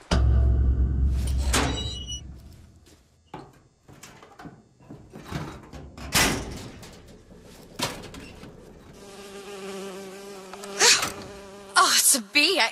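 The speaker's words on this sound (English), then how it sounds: "Oh, it's a bee. I hate these things." Insect buzzing from a bee in the video game BioShock Infinite, a droning hum that comes and goes over several seconds amid other game noises and thumps, with a sharper buzz toward the end.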